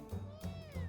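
A cartoonish cat in the video game Mewgenics gives a single drawn-out meow with a wavering pitch, set against a low steady game backdrop.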